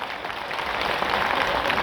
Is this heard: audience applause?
yes